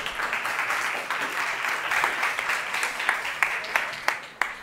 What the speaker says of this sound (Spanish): Pido para ella un aplauso